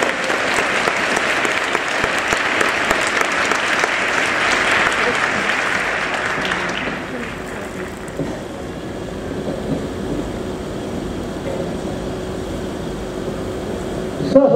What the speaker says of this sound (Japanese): 皆さんも大きな拍手をお願いします。